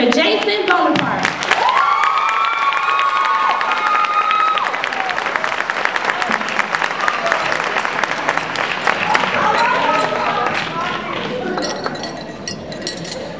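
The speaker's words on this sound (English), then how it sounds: "applause for the Gillespie class of 2010 keynote speaker, Mr. Jason Bonaparte." A crowd greets a school class of 2010 keynote speaker with dense applause and cheering, with whoops and rising tonal shouts over steady clapping that tapers near the end, glassy clinks mixed in.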